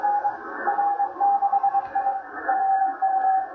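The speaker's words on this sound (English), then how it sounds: "What you're hearing here is a satellite" The amateur radio satellite XW2D's Morse code beacon comes through a shortwave receiver as a steady on-off tone, keyed in rhythmic dashes and dots over band-limited static hiss.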